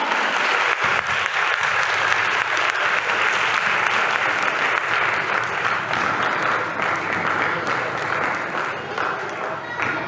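An audience at a Sunday School Christmas program applauds a Christmas carol performance by girls, loud sustained clapping from a large crowd that continues throughout and eases slightly toward the end.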